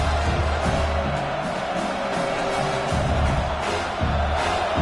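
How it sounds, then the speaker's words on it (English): A vibrating football stadium crowd roars steadily during a game, a dense, continuous wash of cheering that stays loud throughout with no pauses. "Wow, listen to this crowd noise. This stadium is vibrating."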